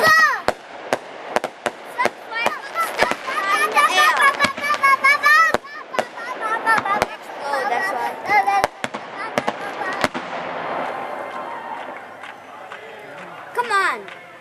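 Festival fireworks bursting in mid-air, a rapid series of sharp cracks and booms over about ten seconds, then tapering to a fading crackle; excited voices and crowd chatter carry on underneath throughout.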